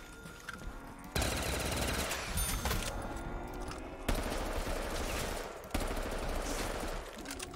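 Automatic gunfire from a weapon in Vanguard Zombies rattles in long dense bursts, loud and continuous with brief breaks between volleys, and a voice says one short word near the start.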